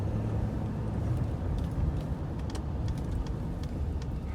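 Ford F-150 pickup with the 3.0 diesel engine driving along, a low constant engine and road rumble heard from inside the cab, with faint intermittent ticks and rattles.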